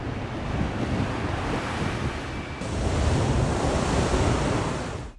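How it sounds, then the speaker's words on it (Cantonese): Heavy surf pounds the rocky shore of the Cape D'Aguilar marine reserve in Hong Kong, a loud continuous roar with wind buffeting the microphone, swelling midway and cutting off abruptly at the end. "第一站嚟到鶴咀海岸保護區，雷咁大聲嘅海浪聲"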